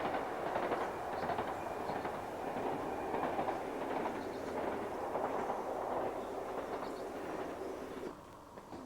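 A train on the Settle and Carlisle Railway rumbles across the Arten Gill Viaduct at a distance with a steady rolling roar and faint rhythmic clatter, fading slightly near the end.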